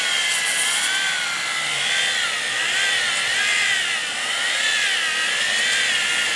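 Power buffer polishing car headlights, a steady high-pitched whir that rises and falls gently in a slow wavering rhythm, close and continuous with no talking.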